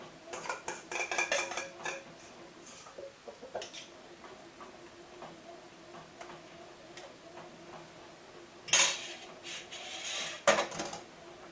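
Forcemeat packed tightly into a terrine mold, heard as a close run of quick ticking taps and clinks of utensil against the mold, then a pause and a few louder knocks near the end, without talk.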